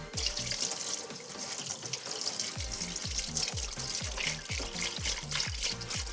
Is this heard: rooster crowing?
no